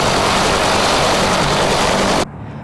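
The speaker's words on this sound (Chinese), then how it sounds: "直升机也马上起飞转往其他战场支援" A military helicopter takes off after hot refuelling and rearming at an army aviation base, a loud, dense engine and rotor roar that fills the air, then cuts off sharply near the end.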